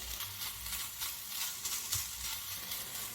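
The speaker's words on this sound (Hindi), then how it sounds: "तब तक भून लेते हैं जब तक प्याज का कच्चापन ख़त्म हो जाए।" A medium chopped onion fries in spiced chicken keema in a pan, giving a soft, steady hiss of sizzling oil with faint stirring, quiet and close, no voices.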